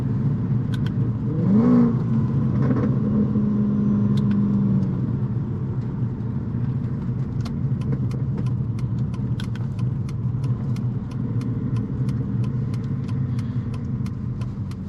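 A Mercedes C55 AMG V8 with straight pipes, Kleemann headers and valved mufflers drones steadily from inside the cabin, with a brief rising rev near the start, over constant gravel-road rumble and faint ticking.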